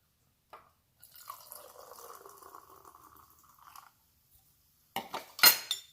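Sprite soda poured over ice and mint in a mojito glass with rum, a steady fizzing trickle for a few seconds, then bright clinks and rattles of ice and glass.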